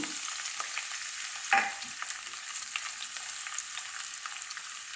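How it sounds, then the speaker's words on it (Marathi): Raw potato pieces fry in hot oil with cumin seeds and chopped green chillies, giving a constant close sizzle broken by light stirring clicks and one sharper scrape. "बटाटे छान परतून घेऊया"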